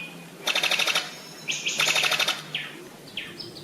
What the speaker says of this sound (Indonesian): Over 600 species of birds are found in Papua, including the birds of paradise, many of which live nowhere else on Earth.